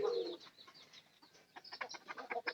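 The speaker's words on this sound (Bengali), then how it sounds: "কবুতর ডাকটা দেয়" A pigeon kept at home calls nearby, soft repeated cooing and short throaty notes running through the whole stretch, a bit denser toward the end, no talk.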